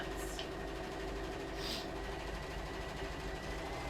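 A sewing machine runs continuously at a low, even level while chain piecing quilt fabric, a faint steady mechanical hum with two brief brighter ticks near the start.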